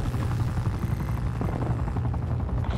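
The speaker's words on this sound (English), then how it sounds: "Enemy chopper gunner established above." A helicopter in Call of Duty: Black Ops Cold War drones as a steady, loud, dense rotor thrum. Its rapid rhythmic chop fills the whole stretch with no pauses.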